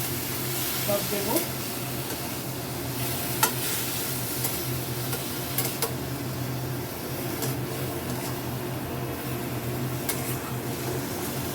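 Jute leaves stirred and frying in a pan with turmeric, a steady close sizzle with scraping stir strokes and a low hum running throughout, a voice speaking now and then over the cooking.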